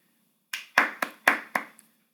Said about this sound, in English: Small applause there.